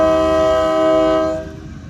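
A Florida Midland Railroad train sounds its horn up close: a loud, sustained multi-tone chord that holds steady and then fades as the train rolls on.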